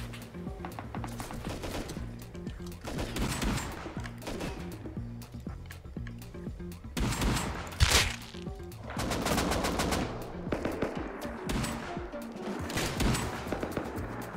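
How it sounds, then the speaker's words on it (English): Repeated bursts of automatic gunfire from a scrap helicopter attacking the player in a video game, sharp rattling volleys at a moderate distance, with no talk. "Oh, the scrap heli is landing to shoot me."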